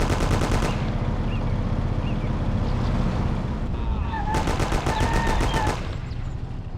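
Automatic gunfire in the video game Mafia, long rapid rattling bursts that stay loud and steady throughout, with a brief pause in the middle before firing resumes.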